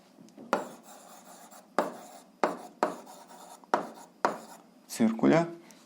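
A pen writes on paper in a series of short, distinct strokes and scratches, close and fairly quiet, with a louder scribble near the end.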